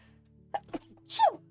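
A short sharp breath intake leads into a single quick sneeze, close and clear against a quiet background.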